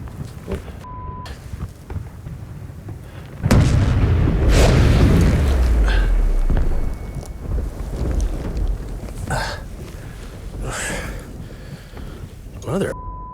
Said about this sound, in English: That's not thunder. That's like a sonic boom of some kind.